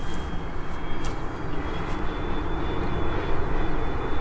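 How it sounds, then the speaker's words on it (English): A scale RC Boeing 787 model airliner flies overhead with a steady, loud, broadband engine roar and whine that holds constant throughout, with no talk over it. "But it's flying, it's flying good, I think."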